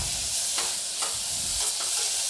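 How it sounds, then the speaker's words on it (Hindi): Brinjal and peas bharta frying in a pan while being stirred, a steady close sizzle with a few soft scraping strokes of the spoon, no voices. "आधा सेकेंड तक भूनेंगे, इसको चलाते हुए"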